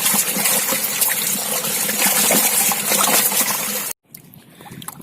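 Water pours and splashes out of a bucket holding farmed catfish, a loud continuous gushing that stops abruptly near the end, leaving faint trickles and drips.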